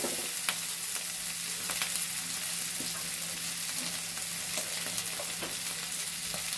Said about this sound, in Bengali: এটা সুন্দর করে এরকম ভাজা ভাজা করে নিতে হবে।